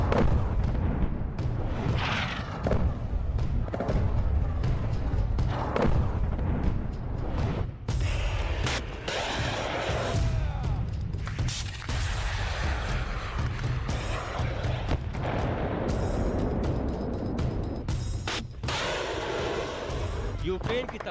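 Missile strike explosions tear through a Ukrainian weapons depot, a long, loud barrage of rumbling booms and sharp cracking bursts that keeps going with hardly a pause.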